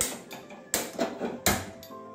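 A kitchen gas stove is lit with three crisp mechanical clicks of the knob or igniter, evenly spaced and close, with no voices.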